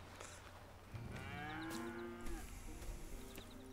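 Cows mooing in the video game Red Dead Redemption 2, a long drawn-out bovine low, with farm ambience around it and no speech.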